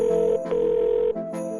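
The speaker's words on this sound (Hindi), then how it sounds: "इसलिए उसने तुरंत यश को फोन किया" Placing a phone call brings a steady electronic ringback tone, a few short buzzing pulses with brief gaps, heard alone and fairly loud.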